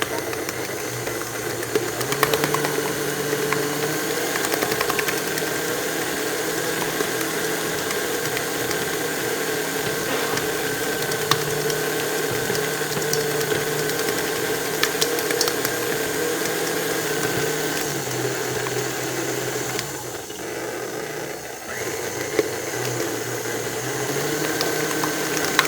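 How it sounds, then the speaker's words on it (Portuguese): Stand mixer kneading pizza romana dough in its bowl, a steady mechanical motor drone with rattling and slight shifts as the speed changes, continuous and close throughout. "Toda vez que a água incorporar bem e soltar aqui do bowl da batedeira, a gente pode diminuir a velocidade e incorporar mais um pouquinho."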